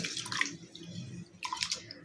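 Water swishes and splashes in two short bursts as grains are rinsed in a bowl, close and fairly quiet.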